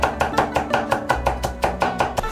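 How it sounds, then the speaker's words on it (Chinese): Garlic cloves, smashed with the flat of a knife, are minced with quick, even knife chops on a board, about a dozen crisp close strikes at a brisk steady rhythm with no talk. "用刀撇破剁成碎。"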